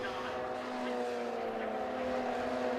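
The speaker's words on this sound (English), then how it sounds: "Just listening to those cars go through the first turn here at Rockingham is absolutely fantastic." Engines of Mazda MX-5 race cars hum and whine steadily at a distance through the first turn at Rockingham, a sustained droning tone without any talking.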